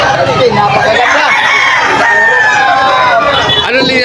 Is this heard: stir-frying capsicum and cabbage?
no